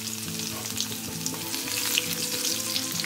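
Crushed garlic cloves and cumin seeds fry in hot oil in a pan, a steady dense sizzle with crackling, close and even throughout.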